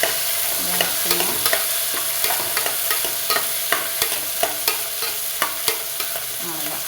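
Onions frying in a hot pan while a utensil stirs them, with a steady bright sizzle and repeated sharp scraping taps against the pan at a regular pace, close and alone.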